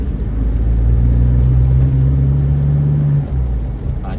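Heavy morning traffic after a downpour at an industrial estate in Chonburi, with a steady close engine rumble and a low droning tone that swells and fades as vehicles creep along.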